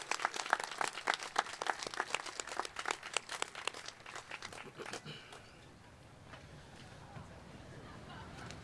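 An audience at a Let Freedom Ring ceremony applauds active and veteran armed forces members: a dense, steady round of clapping for about five seconds that then dies away into quiet room tone.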